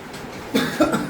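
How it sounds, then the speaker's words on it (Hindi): A short burst of coughing, two or three quick rough coughs close by, after a quiet moment. "एकदम से खांसी हो गई यार,"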